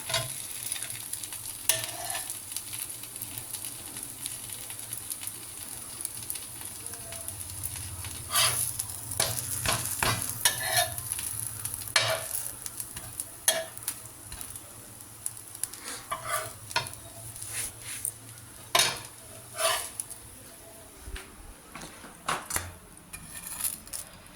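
Ghee dosa sizzling and frying on a hot pan, with a steady crackle broken by scraping and stirring clinks of a utensil against the pan, close and moderately loud, no voices.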